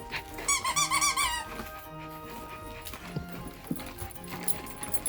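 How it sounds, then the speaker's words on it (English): Squeaker ball inside a plush escaped-goat dog toy, squeaking in a quick run of about eight pitched chirps, loud and close, then going quiet under room noise, with a couple of faint squeaks and low thumps afterward. "it has a ball squeaker inside of it."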